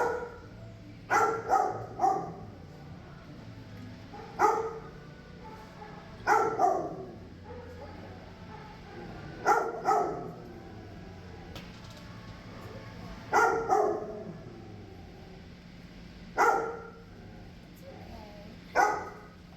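A dog barks repeatedly in short bursts of one or two, moderately close, in a shelter kennel with an echoing indoor background hum between barks.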